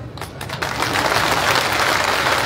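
Crowd applause at an outdoor political rally in Madhya Pradesh, starting thin and swelling into a dense, loud, continuous clapping that holds to the end.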